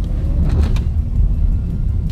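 Cars passing on a road, heard as a steady low engine and tyre rumble close by with no talk over it.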